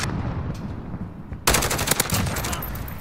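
Rapid automatic rifle fire from a Grau 5.56 on the Shipment map in Modern Warfare, a sudden dense burst of loud, crackling shots that starts mid-clip and keeps rattling on over a low rumble of game noise.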